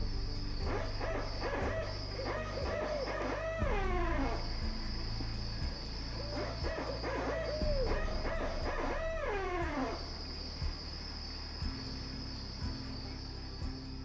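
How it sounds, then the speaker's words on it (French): Owls calling at a winter listening station used to survey owl species, repeated hooting phrases in two bursts over a steady insect-like drone and a constant high whine. "simplement avec des stations où on écoute les hiboux"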